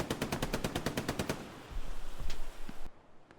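A burst of rapid automatic gunfire in the World War II shooter Hell Let Loose at Omaha Beach: about a dozen evenly spaced shots in quick succession, then scattered distant pops and rumble before the sound cuts off.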